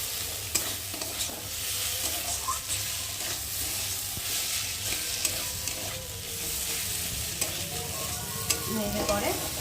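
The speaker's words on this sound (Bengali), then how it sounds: "সেটাকে দিয়ে একটু ভালো করে নেড়ে চেড়ে নেব" Boiled chow mein with kitchen sauce is stirred in a hot pan, giving a constant close sizzle with repeated scraping and clinking strokes of the spatula throughout, with no talking.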